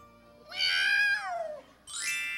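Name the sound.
cat meowing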